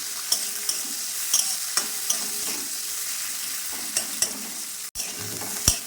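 Chopped onions and green chillies frying in a pan with cardamom, under a steady close sizzle broken by repeated sharp stirring taps and scrapes.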